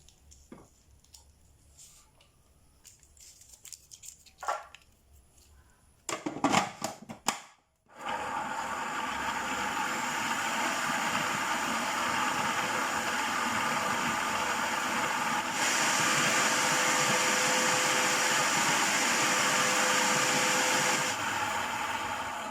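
Electric whisk fitted with a fluffy disc attachment running at a steady whir after a few light clatters, holding a constant loud hum for around fifteen seconds before stepping down slightly near the end.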